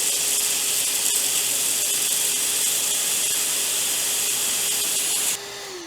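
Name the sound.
shop vac pulling string through motorcycle handlebar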